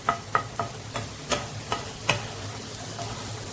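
Garlic sautéing on a low flame in a pan, a soft background sizzle with a handful of sharp, evenly spaced spatula taps and scrapes against the pan, close, with no talking.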